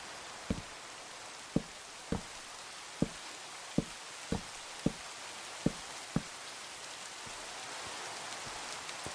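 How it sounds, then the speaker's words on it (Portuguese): Rain hisses steadily in a Minecraft zombie apocalypse mod, Cursed Walking, with about eight soft, evenly spaced knocks sounding over it in the first six seconds and no talk. "começou a chover"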